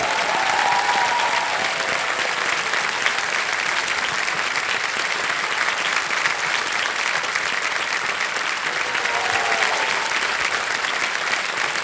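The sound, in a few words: audience applause on Kaun Banega Crorepati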